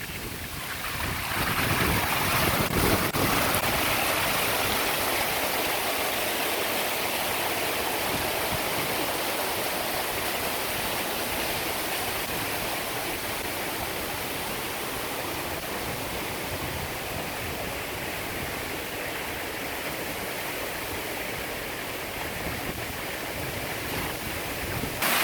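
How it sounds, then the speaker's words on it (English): Water floods through an opened sluice gate at Dunster Water Mill toward its two water wheels. It makes a steady, loud broadband rush that surges in at the start and keeps up continuously with no voices. "I have a lever inside here which is going to lift up the sluice gate and allow the water to flood across."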